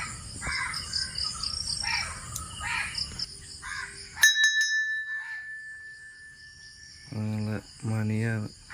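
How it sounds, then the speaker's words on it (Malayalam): A single bell struck once and left ringing with a long, clear fading tone, heard on a calm morning after overnight rain among chirping insects and cawing crows. "മണിയാണ്."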